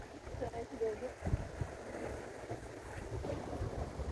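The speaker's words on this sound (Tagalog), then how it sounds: "Sobrang hangin!" Wind buffets the microphone in low, uneven gusts on open water, with faint splashing and a voice murmuring briefly.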